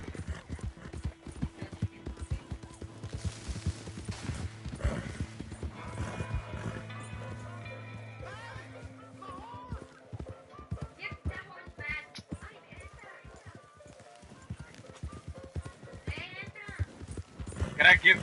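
Horse hooves clip-clopping in the video game Red Dead Redemption 2, a quick steady rhythm of close hoofbeats with a whinny, mixed with game sounds, music and someone talking over it.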